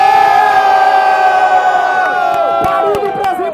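A crowd at a Brazilian rap battle semifinal roars, cheers and shouts loudly and continuously, with whoops rising over a dense wall of voices.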